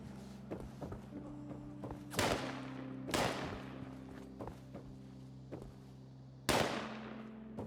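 Gunshots in Fallout 76, three sharp broadband bursts spaced a second or more apart, each with a brief decaying tail, over a steady low hum and scattered faint thuds of footsteps and movement.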